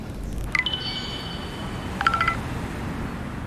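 Telephone dialing tones for a call, two short clusters of bright electronic beeps separated by a pause, heard over a low steady background hum.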